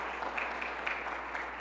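Audience applause at a reading event, a steady wash of many hands clapping throughout, moderately distant and even in level.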